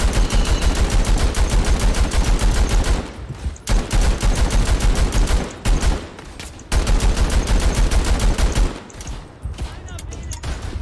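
Dense, loud World War I gunfire in Verdun: near constant rifle and machine gun bursts with brief pauses between volleys, and someone talking over the shooting.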